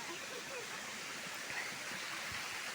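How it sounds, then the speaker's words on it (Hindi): Mountain stream of water flowing steadily in the hills, a continuous broadband rush close by with no break, some faint background sounds mixed in. "इतना सुंदर पानी बह रहा है"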